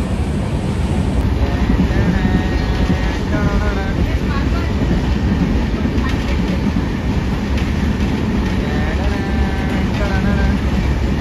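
Loud, continuous rumble and rattle fill the inside of a moving train, with wind buffeting the microphone and faint squeals from the wheels over the steady din.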